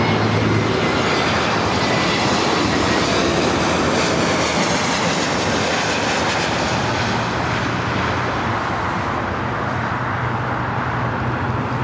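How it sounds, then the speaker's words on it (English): A JetBlue Airbus A321neo arriving from Boston at LAX thunders close by, a dense, loud, continuous engine roar that holds steady throughout. "A321neo coming from Boston."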